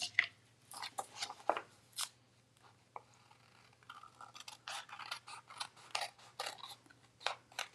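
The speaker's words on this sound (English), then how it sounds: "And then it's time to trim, but not with my ribbon scissors." Scissors trim card paper in a quiet room, giving a series of crisp, close snips and cuts at an irregular pace, with a faint hum underneath and no talk.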